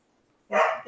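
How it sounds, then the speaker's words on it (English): Three dogs bark at home during a podcast recording, a single sharp loud burst after a near-silent moment. "the three dogs go off"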